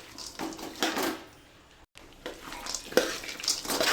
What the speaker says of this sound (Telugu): గ్యాస్ మొత్తం సిమ్లో పెట్టి మంచిగా వేయించుకోండి,